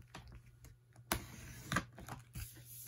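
Cricut machine cutting black vinyl with its blade tool, producing faint, irregular clicks and small mechanical ticks with a few sharper taps, recorded quietly and alone.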